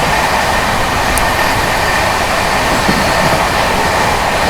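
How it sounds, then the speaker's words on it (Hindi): Steady rushing roar of a moving train, the Maharashtra Sampark Kranti Express overtaking the Bandra Terminus Ajmer Superfast Express, heard close and continuous throughout with a faint high whine and no talking. "महाराष्ट्र संपर्क क्रांति दोस्तों ओवरटेक करने जा रही है बांद्रा टर्मिनस से चलकर अजमेर की ओर जाने वाली Bandra terminus Ajmer superfast express को"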